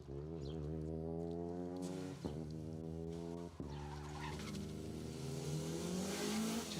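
Peugeot 208 R2 rally car on an asphalt rally stage, its engine pulling hard through the gears: a sustained, loud rising howl broken by two sharp gearshift dips, then climbing again.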